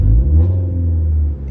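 A car engine rumbling and revving under throttle after a throttle body upgrade, a loud, deep, sustained drone that holds steady before easing off, heard close with no talking.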